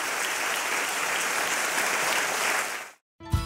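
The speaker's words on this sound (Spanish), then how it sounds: "Denle un aplauso fuerte al Señor." Church congregation applauding loudly in praise, a dense steady roar of many hands for about three seconds that cuts off abruptly, followed by a brief bump of other sound.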